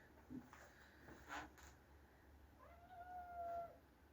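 A house cat meows twice at a farmhouse homestead site, a short call early on and a longer drawn-out meow near the end, fairly faint against a quiet room background.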